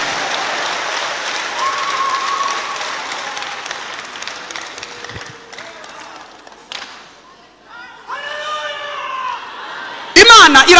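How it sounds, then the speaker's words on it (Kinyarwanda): A church congregation applauding, a broad wash of clapping that swells and fades over several seconds, with voices speaking over it and some excited whoops. "Tumukomera amashyi."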